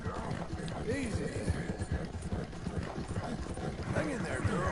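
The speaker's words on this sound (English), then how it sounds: "I like this horse. It's pretty brave." Horse hooves clip-clop at a quick, rhythmic gallop in Red Dead Redemption 2, fairly close, with intermittent voices and background game sounds.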